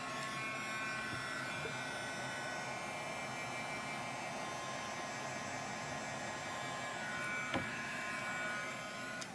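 Steady whirring blower of a dryer running near a freshly made craft piece, a constant even hum throughout at modest level with no talking.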